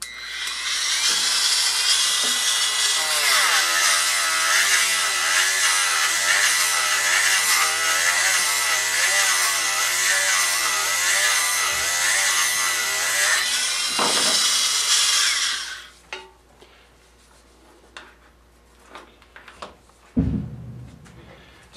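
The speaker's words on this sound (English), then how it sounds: "So I actually take all my real common tools, like this big drum sander, and put them on a Dremel all its own" A Dremel rotary tool fitted with a drum sander shapes a guitar fretboard inlay, a loud high whining grind for about fifteen seconds that stops abruptly, followed by small bumps and handling knocks.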